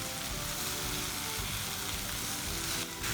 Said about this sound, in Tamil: இப்போ இது கூட நம்ம கழுவி எடுத்து வச்சுருக்கிற முட்டைக்கோஸை ஆட் பண்ணிக்கலாம்.